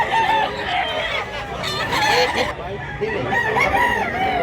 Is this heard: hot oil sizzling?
no